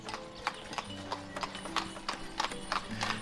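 Horse hooves clip-clopping in the village-building game Ostriv, a single horse near a wagon shed, with a steady run of sharp hoof strikes close by and a faint whinny-like tone underneath.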